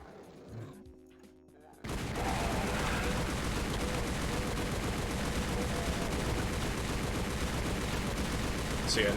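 Upgraded weapons in Doom firing nonstop after a quiet start, a dense, loud, unbroken barrage of rapid gunfire and blasts that runs continuously to the end.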